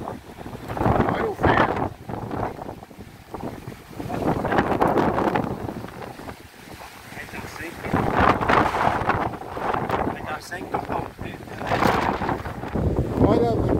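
Strong, gusty wind sweeps across the dry sertão ahead of a storm, shaking banana plants. It roars in long surging waves of broadband rushing, easing briefly in the middle before building again.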